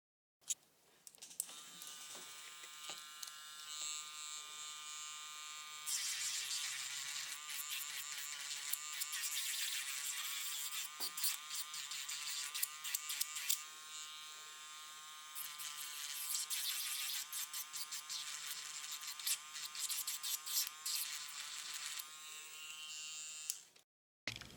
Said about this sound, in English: I'm just going to etch them with my e-file, which has this tip to it